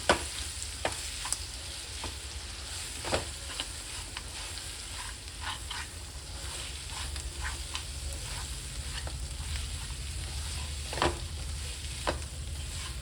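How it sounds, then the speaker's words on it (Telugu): Ginger garlic paste and turmeric frying in a pan for a village-style quail curry, a soft steady sizzle with repeated spoon taps and scrapes, no voices. "అల్లం వెల్లుల్లి పేస్ట్ పచ్చివాసన పొయ్యేంత వరకు ఫ్రై చేసుకుందాం"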